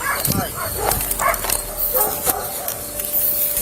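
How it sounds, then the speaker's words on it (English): Several sharp dog barks and yips ring out during a tense police encounter outdoors, close and fairly loud, spread over a few seconds among other noise and commotion. "I got a dog."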